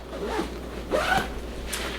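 A zipper on the front pocket of a diaper bag is pulled in two or three quick, close raspy strokes, with a brief pause between them.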